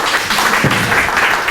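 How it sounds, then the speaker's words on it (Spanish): Brief burst of audience clapping greets a volunteer at a neuro-linguistic programming talk on changing beliefs, a short dense patter of hands close and fairly loud. "un aplauso para el voluntario"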